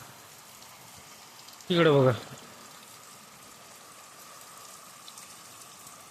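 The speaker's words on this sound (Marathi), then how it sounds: "जसं पावसाचा आवाज येऊ लागला, बडबड बडबड हो, थिंब थिंब" Light, steady rain falls in a soft, even wash of patter, broken once by a brief spoken phrase before settling back to the quiet, continuous drizzle.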